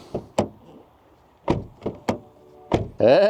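Several short, close clicks and thunks from the keyless front door of a 2022 Honda Civic Type R being handled, unlatched and opened, followed by a brief burst of voice at the end.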